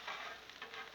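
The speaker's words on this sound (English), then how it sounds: "We need to move the sausages over now." Sausages sizzling on a hot Blackstone griddle as they are shifted across the surface, a brief soft hiss with faint crackle.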